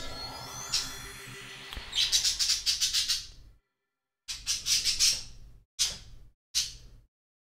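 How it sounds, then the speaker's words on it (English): Bright, rapid bird chirps and tweets in the game Breath of the Wild, coming in repeated bursts with short silent gaps between them, fairly close and clear with no talk over them. "Mad birds."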